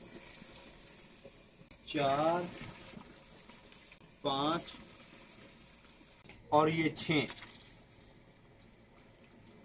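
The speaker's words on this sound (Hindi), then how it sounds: "अभी हम पानी डालेंगे।" Water is poured jug by jug into a large cooking pot for chicken biryani, a steady low splashing hiss running beneath a man who counts aloud in short bursts.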